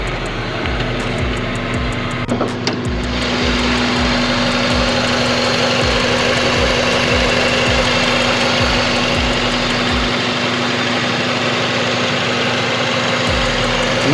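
A used car's engine idles loudly and steadily up close, with an even rhythmic chug and a constant hum. No one speaks.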